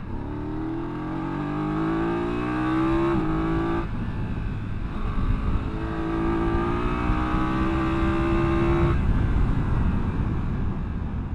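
BMW F900GS Adventure motorcycle engine accelerating hard, its note climbing through the revs, cutting briefly at a gearshift, then climbing again over steady wind rush, close and continuous.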